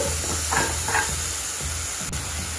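Tomato curry with turmeric and salt is stirred in a hot pan, a couple of slow scraping strokes over a continuous gentle sizzle.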